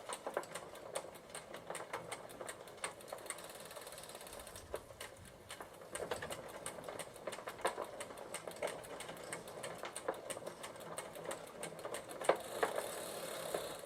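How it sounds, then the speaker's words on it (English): A 1993 Gazelle Speciaal bicycle in third gear gives a continuous fast mechanical ticking and rattling from the drivetrain, quiet and close, with no voices. "There are definitely some weird noises coming from third gear."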